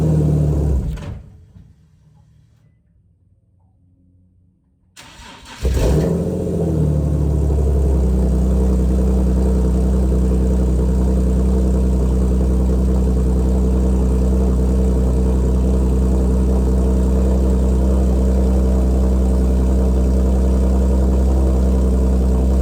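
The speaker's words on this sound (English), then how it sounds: "We'll get a cold start for that too." A quiet stretch gives way to a cold engine cranking and catching, then settling into a steady, loud, low idle that drones on unchanged for the rest of the time, with no talking.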